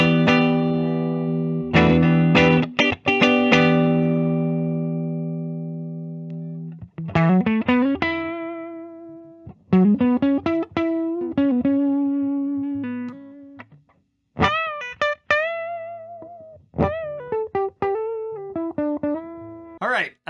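A 1991 Gibson Custom Shop Firebird V electric guitar plays through a clean tone: a strummed chord rings out and decays, then short single-note phrases and bends follow with pauses between, loud and close.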